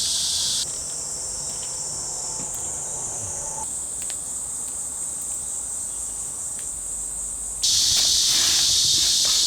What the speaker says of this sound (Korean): 매미도 울고 합창